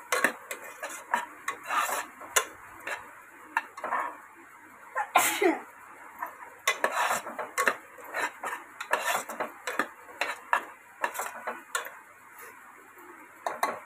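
Ground masala mixed with water is stirred in a metal pot, producing irregular bursts of scraping and clinking from the spoon against the sides, close and fairly quiet, with short gaps between strokes.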